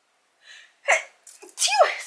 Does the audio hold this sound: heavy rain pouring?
no